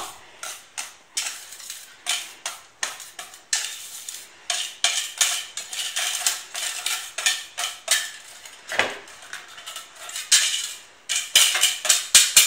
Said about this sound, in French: j'utilise un fouet